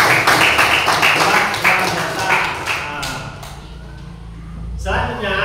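A classroom group claps together for a few seconds, the dense patter loud and close at first, then thinning and fading toward the end.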